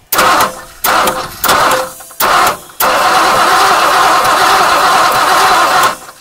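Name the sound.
1959 Mercury Monterey engine being turned over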